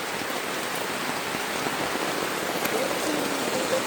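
Heavy rain pouring at a campsite, a dense, steady hiss of drops drumming on tents and surfaces, loud and even throughout with a faint voice briefly underneath.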